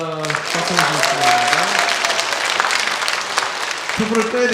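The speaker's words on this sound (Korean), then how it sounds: "예수님의 생일을 축하합니다. 박수 주시겠습니다." A church congregation applauds at a Christmas Day celebration service, a steady crowd of clapping that fills the room for several seconds while a voice sings or speaks over the top and another voice returns near the end.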